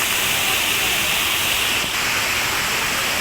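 Harbiye waterfall in Hatay, a loud, continuous roar of rushing water heard up close, steady and unbroken throughout.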